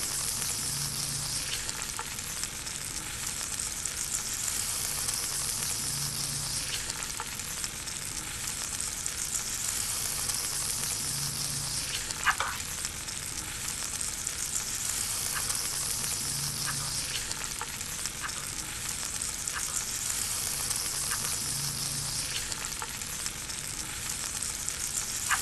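Chicken white kurma mixture fries steadily in a pan, a loud, unbroken hiss of sizzling with faint periodic stirring scrapes and one sharper clink, close up and with no voices.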